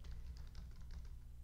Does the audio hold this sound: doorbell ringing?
no